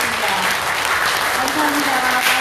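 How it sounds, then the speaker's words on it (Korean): A church congregation applauding a pastor's 20th anniversary of ministry, a steady loud burst of clapping that fills the whole moment, with a faint voice underneath. "목사님 사모님께 모두의 감사의 마음을 담아 박수로 큰 박수 드리겠습니다"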